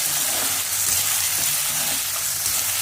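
Sabudana (sago pearls) roasting in a little oil in a pan, a loud continuous sizzle and rustle up close with faint stirring movement, no talking.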